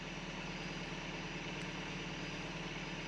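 A Toyota pickup truck engine idles at night in the woods, a steady low rumble that holds constant, heard from inside the cab.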